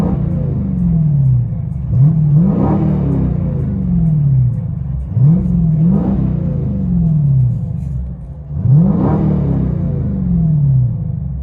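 A 2021 Dodge Challenger 392 HEMI Scat Pack with Dynomax Race Bullets, heard from inside the cabin: a deep V8 exhaust rumble rising and falling through three loud revs, each swelling then settling back to idle.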